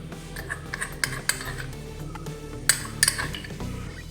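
Gram flour and rice flour being mixed for cassava pakoda, with a spoon clinking and scraping against a bowl in scattered taps and a few sharper clinks, close up, no talking.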